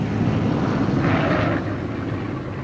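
Heavy, steady drone of a B-17 bomber's piston engines during a rough landing, the roar continuous and loud throughout with a brief rise in mid-range rumble partway through.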